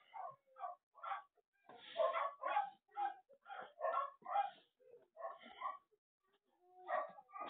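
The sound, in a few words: puppy barking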